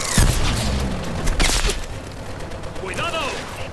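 Rapid gunfire blasting at drones during a San Francisco bridge battle in Call of Duty Advanced Warfare, dense overlapping shots and booms bursting early, then a rumbling firefight with shouted voices near the end.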